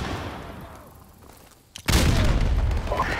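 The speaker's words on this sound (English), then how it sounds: "Frag out! Grenade!" A grenade detonates in Modern Warfare Remastered, an online shooter with AK-47s: a loud, close boom erupts abruptly after a quiet stretch and rumbles on with battle noise, with no talk.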